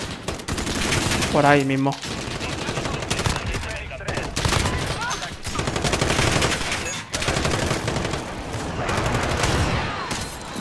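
Gunfire from a multiplayer match of Call of Duty Modern Warfare on the Rust map comes as loud, rapid bursts of close shots, continuous through the stretch, with someone talking briefly over them.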